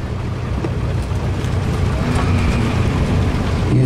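A John Deere A tractor idles at a tractor pull, a low rumbling engine chug heard outdoors with steady wind buffeting the microphone and no voices.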